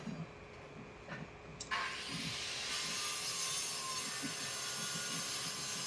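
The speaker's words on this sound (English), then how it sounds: "Angle grinder out, and then just trim that tile down." An angle grinder spins up and cuts into a roof tile with a harsh, continuous high-pitched whine and grinding hiss, loud and close after a few faint knocks.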